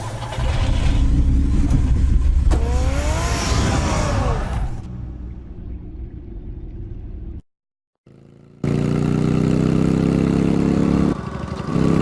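A car engine roars and revs hard, its pitch sweeping upward, then drops to a lower rumble. After a brief silence it returns as a steady, loud drone, close by throughout.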